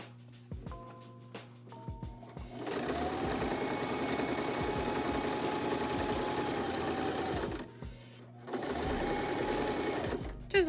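A sewing machine top-stitches a medical face mask, a few short stitching bursts followed by a long steady whir of about five seconds, then a pause and another run, close and fairly quiet.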